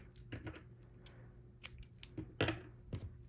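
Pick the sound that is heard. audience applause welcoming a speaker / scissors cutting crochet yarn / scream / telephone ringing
scissors cutting crochet yarn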